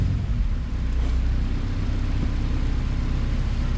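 Honda H22A engine in a Civic EK on a dyno, a loud, steady low mechanical drone holding close and continuous without a clear rising rev sweep.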